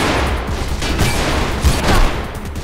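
Rapid gunfire in the video game Mirror's Edge, a loud, dense, continuous volley of shots with booming impacts throughout, heard alone without talk.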